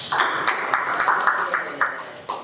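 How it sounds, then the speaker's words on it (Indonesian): A classroom group at a university teacher-training session gives a short round of applause, sparse uneven claps from several people, moderately close, with faint voices mixed in. "Give applause for your friends."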